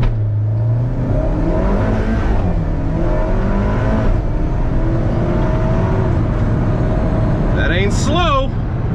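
An Alfa Romeo 4C roars hard under launch control, its engine loud and close as it pulls through the gears, with a person talking over the noise and a brief whine near the end.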